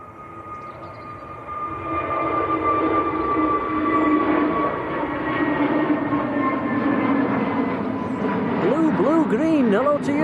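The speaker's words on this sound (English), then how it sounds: "EasyJet just getting airborne." An EasyJet airliner taking off from Manchester Airport gives a loud, sustained jet engine roar that holds steady throughout, with a voice speaking over it near the end.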